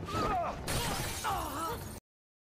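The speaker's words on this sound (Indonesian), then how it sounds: "membuat kacanya pecah berantakan" Glass table top shattering during a fight scene in an Indian film, a sustained crashing, breaking burst mixed with raised voices and screams, then abrupt silence.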